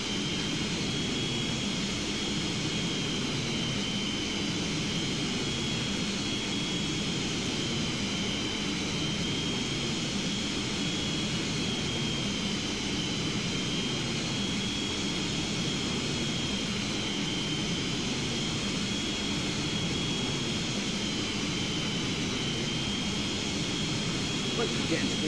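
An aircraft in the FlightGear flight simulator game drones in a steady, unbroken engine hum that holds at the same level throughout, with a voice talking over it.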